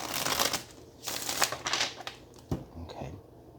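Tarot cards being shuffled, quick papery riffles and slaps in short bursts, close and fairly quiet.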